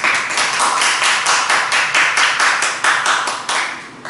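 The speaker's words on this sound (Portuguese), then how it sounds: "Vamos aplaudir o Senhor, que Ele merece toda a honra e toda a glória." A church congregation claps together at the close of a service: loud, close, rhythmic group clapping with regular beats about every third of a second, continuing steadily throughout.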